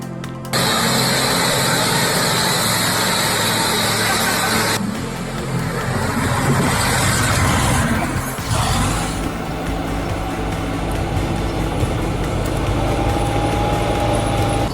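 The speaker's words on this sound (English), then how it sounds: "Let's admire the power of the LKT-81T skidder." LKT-81T skidder logging vehicle working in a forest, its heavy diesel engine running loud and steady throughout with a deep low rumble and shifting load midway.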